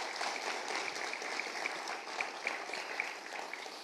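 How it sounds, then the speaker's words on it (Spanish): Members of a church congregation clap together in a continuous, fairly even roar of applause, with a few sharper claps standing out and no talking heard. "Denle un poderoso aplauso a Jesús si lo cree."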